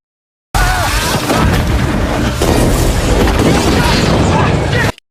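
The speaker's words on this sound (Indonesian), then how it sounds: "terjadi ledakan energi yang membuat mereka berlarian" A loud, sustained roaring energy explosion in a Marvel superhero film, with heavy rumbling bass that starts abruptly and continues for several seconds before cutting off.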